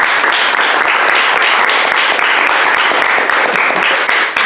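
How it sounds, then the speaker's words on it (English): Sustained applause for a reality show's film crew at the close of a season of a Big Brother–style competition, dense and steady clapping from a crowd filling the room for several seconds with no voices over it. "Please give a hand for our film crew and our crew."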